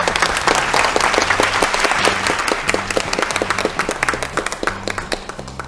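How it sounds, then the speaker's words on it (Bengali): Studio audience at a family game show bursts into loud, sustained applause, dense clapping that gradually thins out toward the end. "জোরে একটা করতালি"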